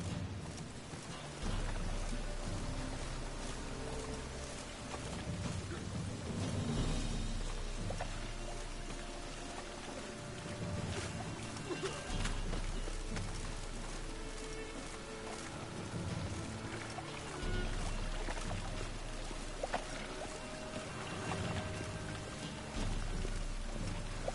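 Steady rain pours with drops pattering on surfaces in The Witcher 3, a continuous dense wash with low rumbling swells throughout, no voices.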